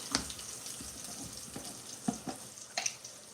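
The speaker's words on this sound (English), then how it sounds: "Rinse the spoon real quick." Tap water running over a spoon being rinsed in a kitchen sink, a soft continuous flow with a few light clinks, fairly quiet.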